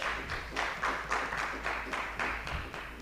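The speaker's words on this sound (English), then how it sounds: "Round of applause, please." Applause from a small audience at a real estate engagement meeting in Sunbird, Kuchawe, a short, moderately quiet round of rhythmic clapping lasting a few seconds with no talking over it.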